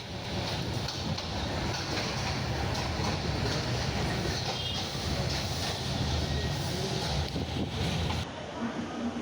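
Train pulling into Chattogram railway station at dawn, a continuous loud rumble and clatter of rolling wagons with faint squeals, steady throughout before dropping off near the end.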